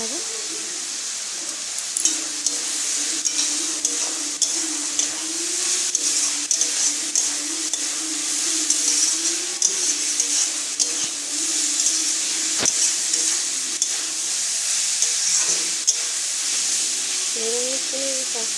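Chopped capsicum stir-fried with vegetarian pasta in a pan, a continuous hissing sizzle with scattered scrapes and clinks, while a voice talks steadily over it.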